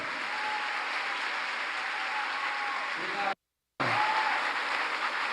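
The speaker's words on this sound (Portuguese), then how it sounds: "Aplauda mais forte." Steady audience applause fills a church service, dense and continuous, cutting to a brief silence before resuming just as loud.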